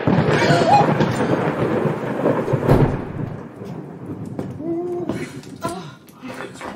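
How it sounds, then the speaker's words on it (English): Heavy rain and rumbling thunder fill the background while people talk over it, a loud storm with a strong roll partway through. "It's raining hammer handles out there."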